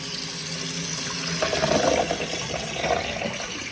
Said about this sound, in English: All right, the beans are done. Just gonna drain them.